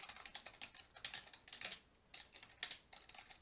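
Rapid clicking keystrokes on a computer keyboard as a message is typed into chat in World War 2 Online, coming in quick bursts with brief pauses between them, close and fairly quiet.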